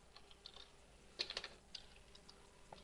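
Typing on a computer keyboard: quiet, uneven clusters of key clicks at close range, with a quicker flurry of taps partway through and sparse single presses around it.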